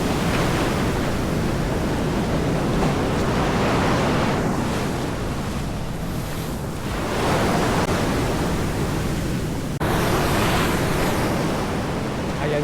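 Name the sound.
ocean waves breaking on the shore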